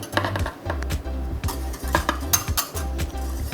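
Dishes and utensils clatter and clink in a pot as rehydrated gelatin mass goes into hot vanilla sugar syrup, with a steady low hum underneath and repeated close, irregular knocks and stirring scrapes.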